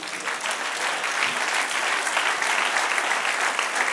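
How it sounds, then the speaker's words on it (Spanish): Church congregation clapping together in sustained applause, a steady, even roar of many hands across the sanctuary with no voices standing out. "Del otro aplauso, Señor."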